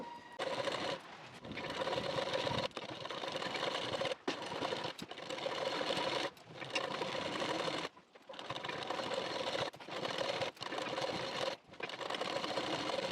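A sewing machine stitches a neckband strip onto a nightie, whirring steadily in long runs broken by short pauses, with no voices over it.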